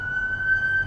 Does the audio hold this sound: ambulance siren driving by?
yes